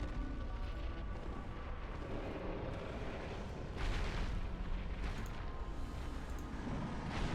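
Fire pyromancy blasting and destroying an object in Dark Souls, a sustained rumbling roar of flame and explosive booms with a sharper burst midway, dense and continuous throughout.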